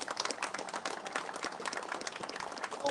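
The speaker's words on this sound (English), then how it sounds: "Get a brother another round of applause" A crowd at a community gathering applauds a performer, a faint, steady patter of many hands clapping at a distance with no talk over it.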